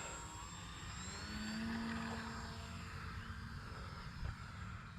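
Electric motor of an RC L-19 Bird Dog model plane running steadily, a continuous propeller whine and drone that holds fairly even throughout with no talk.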